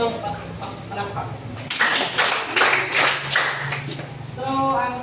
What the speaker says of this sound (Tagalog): bigyan siya ng 5 palakpak.